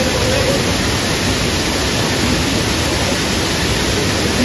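A broad, steady rush of falling water from a waterfall with reduced flow, loud and close, unbroken noise with no distinct splashes and no voices.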